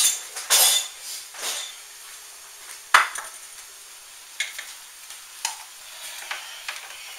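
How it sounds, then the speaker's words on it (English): Meat and onions sizzling softly as they brown in a pan while a utensil stirs and scrapes, with scattered clinks against the pan and no talking. "we're just going to brown up this meat. Let the onions cook right in here in it."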